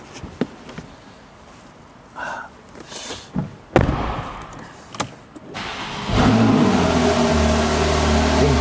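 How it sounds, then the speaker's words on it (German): A 2016 Porsche 991.2 Targa 4S sets off across a yard: scattered knocks and a brief buzzing at first, then the engine rises to a steady, loud, close rumble that holds through the final seconds, with no voices. "Und jetzt fahren wir einmal über unseren Hof hier, hören uns mal an, wie der Sportauspuff klingt und rocken das Ding."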